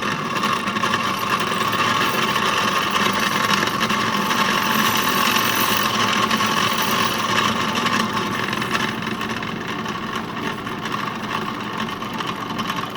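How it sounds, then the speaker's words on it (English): A drill slowly boring a small hole into the Welch plug of a carburetor for a 1950s Evinrude or Johnson 7.5 hp outboard, giving a steady, continuous whirring buzz for the whole stretch, loud and close, with no talk. "what I like to do is just drill a little hole in it so I can put a screw in it"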